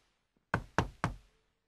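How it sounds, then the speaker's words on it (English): Three firm knocks on a castle door in a children's story, evenly spaced, loud and close, with nothing else heard around them. "He knocks on the door."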